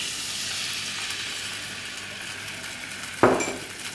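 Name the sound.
orange juice sizzling in melted butter in a pan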